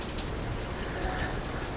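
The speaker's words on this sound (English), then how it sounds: "the rain is still coming down" Rain falls steadily outside a seaside artist's studio, a constant soft hiss of drops spattering on surfaces, heard alone without voices.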